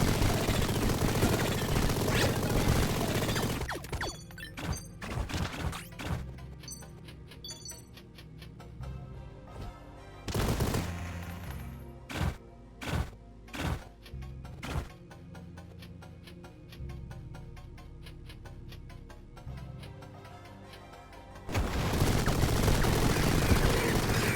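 Machine gun fire in the video game Mighty Goose, bursts of rapid shots at the start and end with separate sharp blasts in between, over game music, loud and close.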